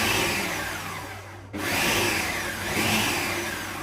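A food processor roars as it chops a raw vegan nut roast mixture, with a brief break before it starts up again loud and steady.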